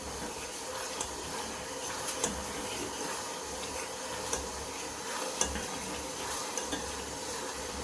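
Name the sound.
stirring food in a pan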